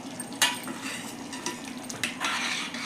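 A spoon stirring homemade masala through a tomato egg curry in a pan, soft scraping and clinks against the metal over a faint sizzle, with a few louder knocks.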